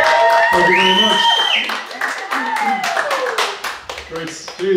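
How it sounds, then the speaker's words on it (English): Festival crowd clapping for the opening act at the Swansea Fringe Festival 2018, a loud dense round of applause mixed with tonal sounds and a voice over it, tapering toward the end. "a big round of applause for the first act"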